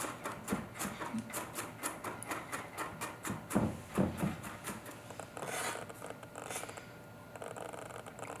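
Knife mincing garlic cloves on a cutting board for a coconut-milk seafood stew: rapid, rhythmic chopping taps, near and crisp, with a brief scraping stretch near the end.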